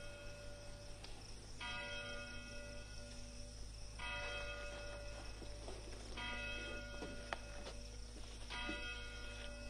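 Big Ben clock bell chiming, four evenly spaced rich bell strikes ringing out over a low steady hum, resonant tones sustaining between strikes, no voices.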